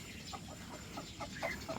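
Sasek and Rock Island chickens cluck softly in short, repeated low calls, a quiet series of clucks over faint background noise as the birds start squaring off to fight.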